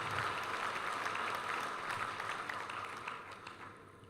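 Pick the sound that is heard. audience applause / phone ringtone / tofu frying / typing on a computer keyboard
audience applause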